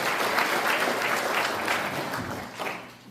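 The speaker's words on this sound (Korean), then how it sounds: "박수 부탁드리겠습니다." Audience applause at a commemoration ceremony for the 106th anniversary of the Korean Provisional Government, a steady wash of clapping from a crowd lasting a few seconds and tapering off near the end.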